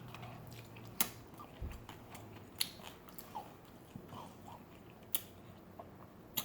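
Crispy Vietnamese fried chicken wings being bitten and chewed up close, with a string of sharp, evenly spaced crunches over a quiet background, no talking.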